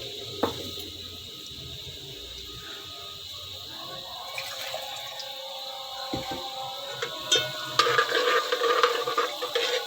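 Lightly browned onion with half a teaspoon of cumin sizzling in oil for a rice tadka, a soft steady fry hiss with occasional spoon stirs and clinks that grow busier toward the end.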